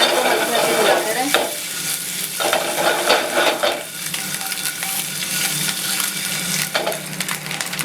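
Eggs fry in hot oil in a gently shaken pan, giving a loud, close crackling sizzle broken by rhythmic scraping swishes every second or so as the pan is moved.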